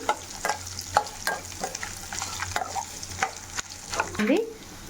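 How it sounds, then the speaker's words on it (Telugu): Food frying lightly in oil in a pan with dried red chillies for a chicken curry gives a steady close sizzle, broken by repeated stirring scrapes and small clinks. "ఆయిల్ వేసి వేపాలి లైట్గా చాలా టేస్ట్గా ఉంటుందండి"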